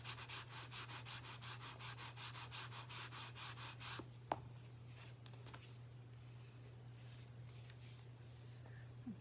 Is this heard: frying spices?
no